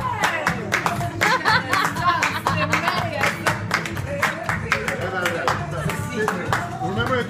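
Several diners clap in a quick steady rhythm along to music at a restaurant table, the close sharp claps running throughout, with people talking and chuckling among them.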